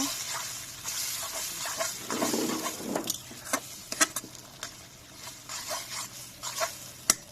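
Spices (chili, turmeric and coriander powder) being stirred and sautéed in a pan, with a steady soft sizzle and intermittent scraping and clinking strokes of a utensil close by.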